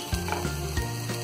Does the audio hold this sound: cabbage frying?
yes